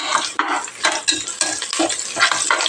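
Five dried red chillies fry in hot oil while a utensil stirs them, giving a dense, steady sizzle with scraping and stirring strokes throughout, close and fairly loud.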